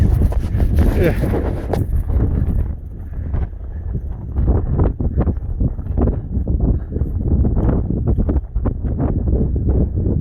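Strong Nevada wind buffets the microphone in heavy, uneven rumbling gusts, loudest at the start, with a voice seeming to break through in fragments.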